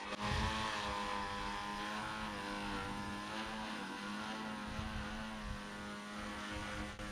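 Radio-controlled VTOL aircraft on a test flight accelerating away, a steady harmonic motor and propeller whine that stays fairly constant and slowly shifts in pitch, with no voices.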